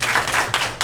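A short run of hand claps rings out at a council meeting, with a few quick, loud bursts close together in a roomy hall.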